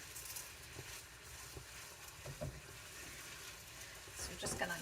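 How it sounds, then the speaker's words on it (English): Rice toasts in a pot, a steady soft sizzle with occasional scraping stirs, heard close and fairly quiet. "I like to toast my rice up a little bit before I cook it"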